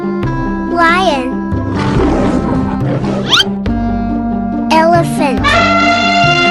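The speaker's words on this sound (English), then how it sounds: "Lion." Cartoon lion letting out a loud, rough roar in the middle of a playful children's music track, close and prominent.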